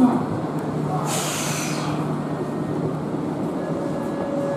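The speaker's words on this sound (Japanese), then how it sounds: "1番線回送列車が発車いしますご注意ください" In a Tokyo Metro Ginza Line subway station, an out-of-service 01 series train rumbles as it pulls away from the platform, a brief hiss of air brakes rising over the steady station hum.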